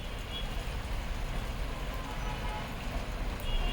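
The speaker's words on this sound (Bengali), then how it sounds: "বৃষ্টি চলেই এসেছে" Steady rain falls continuously on a rainy day at a rose garden in Ooty, a dense broadband hiss holding constant throughout with no pause or talk.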